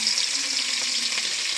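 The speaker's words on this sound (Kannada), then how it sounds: "ಎಣ್ಣೆ ಕಾಯಿನಕ್ಕೆ ಬೆಳ್ಳುಳ್ಳಿ ಪಾಡೋಡು" Garlic fries in hot oil in a pan for a pepper chicken dry, giving a steady, close, loud sizzle with no talking.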